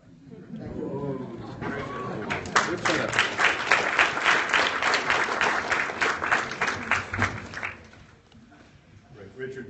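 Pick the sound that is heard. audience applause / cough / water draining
audience applause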